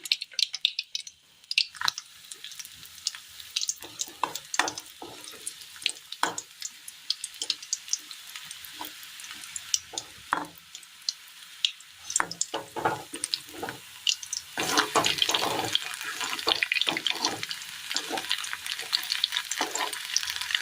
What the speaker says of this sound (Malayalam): ഇതുപോലെ എല്ലാ മുരിങ്ങക്കോലും ഒന്ന് വറുത്തെടുക്കണം.